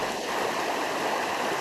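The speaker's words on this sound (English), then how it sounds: "as they work to drain their basements after today's torrential rains filled them with water" Floodwater draining from flooded basements after torrential rain, a continuous loud rushing, streaming flow with no pauses, no voices.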